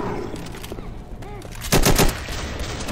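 Assault rifle gunfire in the zombie shooter Left 4 Dead, a burst of rapid automatic shots cracking out loudly near the end after quieter game ambience.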